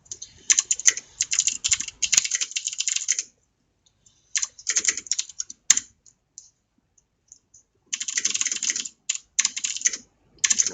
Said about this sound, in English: I hope you can enjoy the sound of my keyboard. I love mechanical keyboards.